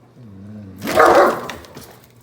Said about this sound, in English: Hear the dog?